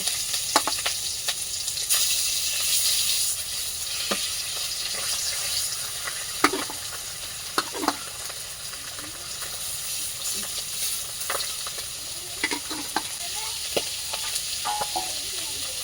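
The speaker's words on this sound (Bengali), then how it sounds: "এবার মাছগুলো আমি ভেজে নেবো, কড়াটা গরম হয়ে গেছে" Fish frying in a hot kadai gives a constant loud sizzle with spitting pops and scattered sharp crackles and taps, close by, with a brief soft voice in the background.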